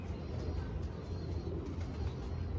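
Pigeons coo softly over a steady outdoor hum, with faint wing-like flutters now and then; the birds sound fairly distant and low in level.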